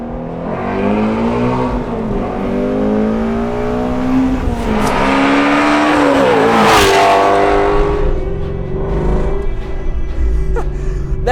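A Shelby GT350 V8 revs hard toward 8250 RPM, its pitch sweeping steadily upward to a loud, screaming peak before dropping back, sustained and close throughout.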